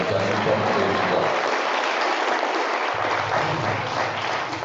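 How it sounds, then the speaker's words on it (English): A community meeting audience gives a steady round of applause for a retiring member, dense even clapping held at a constant level for several seconds. "I'd like to just have a round of applause for John."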